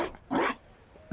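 A dog barks once in the Dragon Age: Inquisition video game, a single loud bark standing out against quiet background ambience, followed by faint noise at the end.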